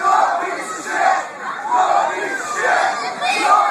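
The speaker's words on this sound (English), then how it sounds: "Imagine your whole crowd chanting "you're a piece of shit."" Concert crowd at an onstage meltdown chanting an insult in unison at a drunk singer, a loud rhythmic swell of many voices rising and falling in repeated waves.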